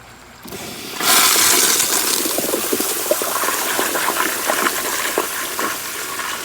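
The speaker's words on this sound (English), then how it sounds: "Flushes just like a Kohler Kingston water guard should." A 1992 Kohler Kingston Water Guard toilet flushing, starting abruptly with a loud rushing gush of water that churns steadily and close up, with no talking.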